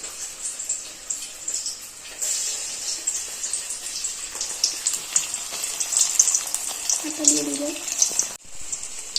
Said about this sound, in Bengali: আমরা এবার আস্তে করে তেলের মধ্যে ছেড়ে দেবো।